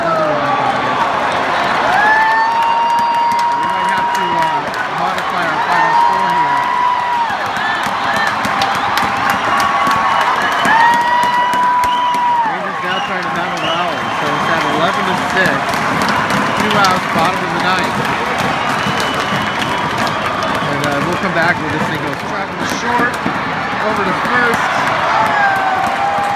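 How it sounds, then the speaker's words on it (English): A vocal Dodger crowd at a baseball game cheers and applauds loudly and continuously, with whistles cutting through the roar while a commentator talks over it. "Minority but very vocal Dodger crowd"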